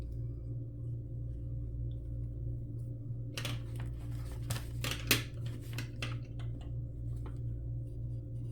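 Scissors snip through cardboard in a short run of crisp cuts and clicks following a quiet stretch, close and soft over a low steady hum, with no talk.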